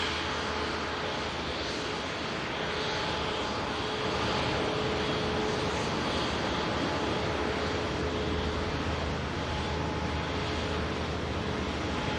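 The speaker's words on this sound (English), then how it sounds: "Singapore Airbus A350 as well here at the RVP taxi and past." Singapore Airlines Airbus A350 taxiing at Manchester Airport, a continuous broad engine roar with a faint steady whine, fairly distant and unchanging in level for the whole stretch.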